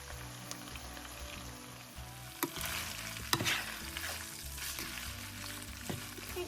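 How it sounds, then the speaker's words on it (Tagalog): Ground beef frying in a hot pan, a continuous crackling sizzle with occasional sharp scrapes and clanks of stirring, fairly faint and with no voices. "when the pan is already hot, we can now put in the ground beef and cook it until so stir lang natin siya guys para maluto"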